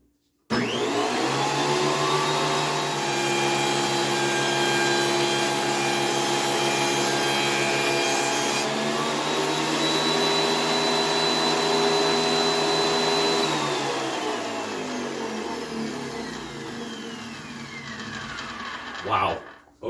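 A RIKON 25-135H 13-inch benchtop planer with a helical cutterhead feeds a board through, giving a loud, steady machine whine and roar for about fifteen seconds before winding down near the end.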